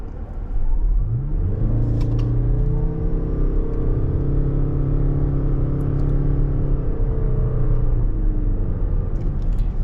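A 2023 Toyota Crown XLE sedan pulls away from a stop, its engine and road rumble building steadily and holding a smooth drone from inside the cabin, with no talking.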